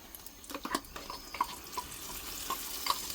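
Ground coconut paste is stirred into a simmering fish curry in a pot, giving soft, irregular taps and wet scrapes of a spoon over a faint bubbling sizzle, close and quiet.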